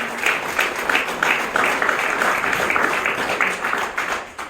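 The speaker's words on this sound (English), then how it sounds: "please give yourselves a round of applause" Applause from an audience at a State of the Black Union opening event, a dense, steady wash of clapping holding at fairly even loudness through the whole stretch, no voices standing out.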